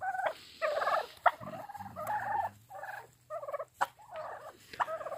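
A flock of big farm turkeys gobbling in repeated bursts, several overlapping calls close by with brief pauses between, no talk.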